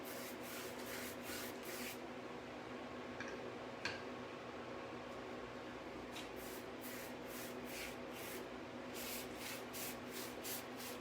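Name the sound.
spraying a fine mist onto a chalk painting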